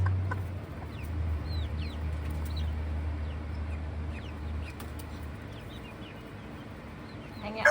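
Brahma chickens in a coop with a fan blowing cluck and chirp in short scattered calls over the fan's steady low hum, moderately close and fairly quiet.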